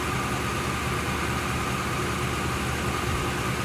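A 1978 Oldsmobile Delta 88 V8 settles down from fast idle after a cold start, giving a steady, smooth low rumble held close and continuous throughout with no voices.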